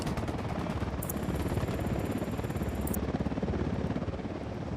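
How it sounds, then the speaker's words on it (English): Steady rapid thudding of a video game helicopter's rotor blades as it approaches, loud and continuous, with a brief high whine in the middle. "Chopper's approaching."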